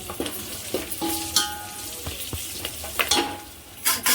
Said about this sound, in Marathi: या तीन चार हिरव्या मिरच्या आहेत त्यासुद्धा आपण टाकून घेतो आणि याला चांगलं मिक्स करायचं